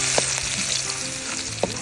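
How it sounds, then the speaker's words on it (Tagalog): Garlic sautéing in a hot pan, a steady close sizzle throughout with a couple of brief clinks from stirring. "gigisahin na natin yung bawang"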